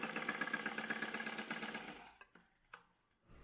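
A sewing machine runs close up, stitching dress fabric in a fast, even chatter for about two seconds, then stops, followed by a few soft clicks and handling sounds.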